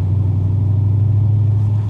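An Audi S5 drives along the road, its engine a steady, close low rumble with a strong drone and no voices.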